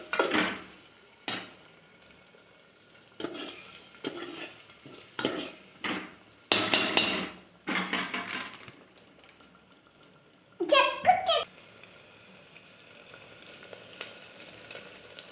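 An egg is stirred in a frying pan in a home kitchen, with repeated bursts of utensil scraping and clinking against the pan over a faint sizzle. Short pauses separate the strokes.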